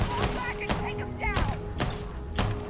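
Weapon fire in the sci-fi game Starfield: five sharp shots at uneven intervals, each a broadband crack, with a voice speaking between them and an electronic game tone underneath.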